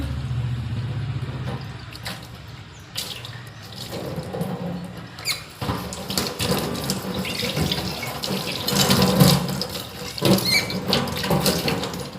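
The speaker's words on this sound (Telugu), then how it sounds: "ఇప్పుడు వాటర్ వేసి కడిగేస్తున్నాను" Tap water runs into a sink while plates are rinsed after soaping, with clinks and splashing that get busier and louder toward the end.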